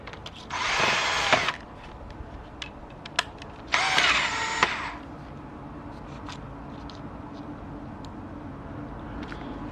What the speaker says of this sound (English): And then we're going to try to drill that out a little larger.